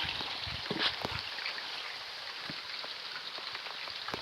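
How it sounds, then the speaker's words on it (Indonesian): Rain falls outdoors on a plantation plot beside an unfinished hut, a soft, steady hiss with a few distinct drops tapping close by early on. "Hujan kawan-kawan."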